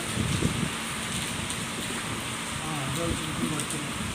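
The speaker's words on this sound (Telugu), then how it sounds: "వర్షం" Steady rain hisses loudly and continuously, with a voice talking faintly underneath the downpour.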